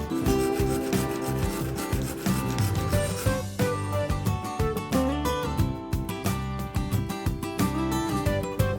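Steady, rhythmic rasping of a saw cutting grooves inside a pipe fitting to remove a broken faucet, back and forth at close range, with repeated scraping strokes and no talking.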